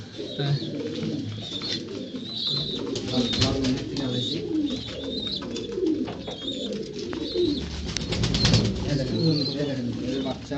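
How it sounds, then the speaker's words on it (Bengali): Pigeons, including a young one, coo in repeated soft rolling calls close by, with occasional wing flutters and rustling throughout, while a person talks at times. "একটা অন্য কবুতরের বাচ্চা আছে।"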